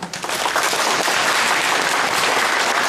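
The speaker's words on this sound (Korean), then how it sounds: "우리 양재현 이사장님 대해서 박수 한번 부탁드립니다." Loud, sustained applause from a large audience at a photography exhibition opening ceremony, a dense wash of clapping that holds steady throughout.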